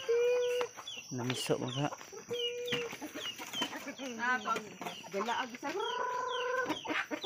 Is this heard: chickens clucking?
yes